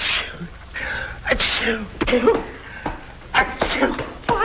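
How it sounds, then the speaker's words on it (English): A loud, close sneeze bursts out, followed by a few more sneezy, breathy outbursts and short vocal sounds. "I get to sneezing like that, and sometimes it almost kills me."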